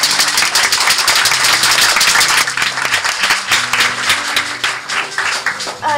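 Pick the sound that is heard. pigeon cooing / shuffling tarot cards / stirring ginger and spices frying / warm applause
warm applause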